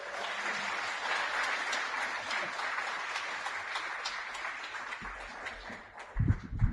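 An audience at an apartment grand opening applauds to welcome Councilmember Curren Price, sustained clapping from a crowd filling the space at moderate volume, tapering off before a few closer knocks and thumps at the end.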